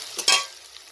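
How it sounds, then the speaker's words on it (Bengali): Fish fat frying in oil with black cumin, chopped onion and chopped green chilli gives one short, close sizzling burst with a quick stir, and the hiss fades within a second. "পেঁয়াজ কুচোনা কাঁচা লঙ্কা কুচোনা দিয়ে দিচ্ছি দিয়ে ওইটাকে তেলটাকে ভেজে নেবো"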